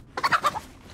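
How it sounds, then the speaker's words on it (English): A chicken about to be killed outdoors gives a short burst of three or four clucking, squawking calls close by, then falls quiet. "I'm about to kill a chicken."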